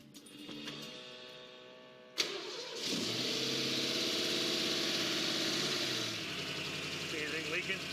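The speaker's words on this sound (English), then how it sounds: "It's sitting there idling on fast idle." A 1969 De Tomaso Mangusta engine cranks briefly, fires up with a sharp burst, then settles into a steady, smooth fast idle that slightly drops in pitch near the end.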